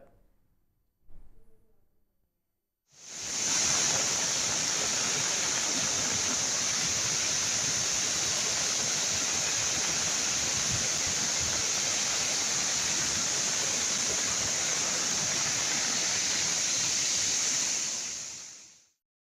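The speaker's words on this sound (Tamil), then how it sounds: "கோவை மாவட்டத்தில் பெய்த மழையால் பொள்ளாச்சி வால்பாறை சாலையில் ஆழியாறு அருகே கவி அருவியில் வெள்ளப்பெருக்கு ஏற்பட்டது" Kavi Falls near Aliyar on the Pollachi–Valparai road, in flood after heavy rain, gives a loud, steady roar of rushing water that holds constant for about fifteen seconds after a short quiet start.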